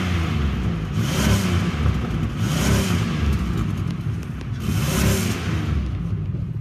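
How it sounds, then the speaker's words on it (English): A 2004 Chevrolet Impala engine idles and revs in a few slow swells, steady and close, with no voices. "Let's go ahead and listen to the engine."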